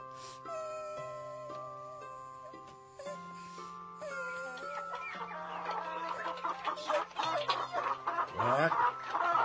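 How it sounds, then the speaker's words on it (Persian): Hens cluck on a farm, a burst of short repeated clucks rising near the end, heard close over sustained tonal music. "پاشو برو برای مرغا دونه بریز که حیوانیا گشنن"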